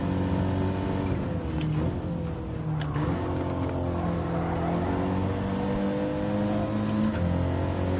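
A race car engine in a racing video game drones steadily, with its pitch stepping as gears change, and a brief dip near three seconds. The tone is sustained and even throughout.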